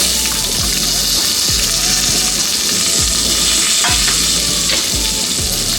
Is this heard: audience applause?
no